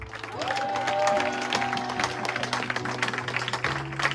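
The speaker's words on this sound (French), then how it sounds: "est-ce qu'on peut acclamer pour Jésus?" Congregation in a French-language church service applauding and cheering for Jesus, a steady wash of clapping and crowd noise running throughout, with sustained music tones underneath.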